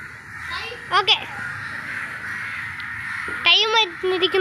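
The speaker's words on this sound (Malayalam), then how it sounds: "നിറയെ കാക്കയൊക്കെ പറക്കുന്നു കണ്ടോ," Several crows caw outdoors in harsh, close bursts, first a quick pair and then a longer run of calls over a steady background hiss.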